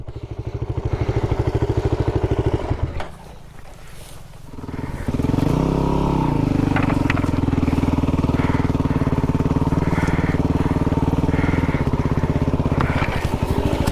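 A motorbike engine runs loud and close, dipping briefly to a low idle before revving back up to a steady, rattling roar.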